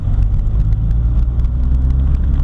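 A 1979 VW Rabbit with a 1.6L diesel engine pulls hard in third gear, a loud, steady, low rumbling drone heard from inside the car without pause.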